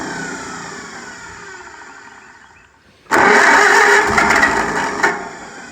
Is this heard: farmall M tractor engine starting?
yes